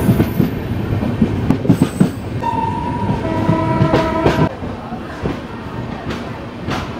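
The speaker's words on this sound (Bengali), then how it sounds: "9:28 এই স্টেশনে ট্রেন ঢুকিয়ে দিল," The Dhauli Express, the Shalimar–Puri train, pulls into a station: loud clattering wheels and rolling car rumble, with drawn-out squealing tones midway, then a softer steady run with occasional clanks.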